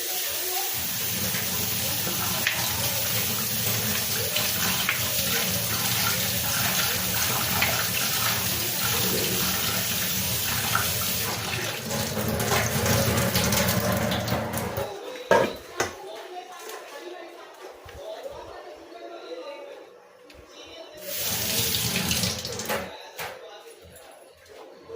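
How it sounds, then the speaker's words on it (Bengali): Vegetables, cabbage among them, are washed under a running kitchen tap. The water rushes steadily for about fifteen seconds, then stops with a few clatters, and briefly runs again near the end. "চলো সবজিগুলোকে ভালো করে ওয়াশ করে নিই জলে"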